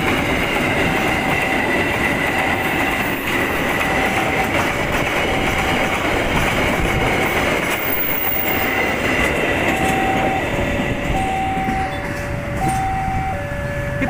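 A Pertamina fuel tanker train, loaded with fuel from Malang, passes track 1 at Wonokromo station with a loud, steady rumble and wheel clatter that fills the whole clip.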